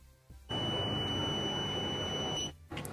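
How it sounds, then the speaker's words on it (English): A medicine reminder box alarm sounds one steady electronic beep for about two seconds in a quiet room, then cuts off. "So the alarm stopped beeping the sound."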